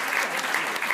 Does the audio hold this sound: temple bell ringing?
no